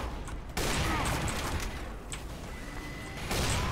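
A sniper rifle headshot in Team Fortress 2 lands as a sharp, loud crack within a dense wash of game noise, with a second sudden burst near the end.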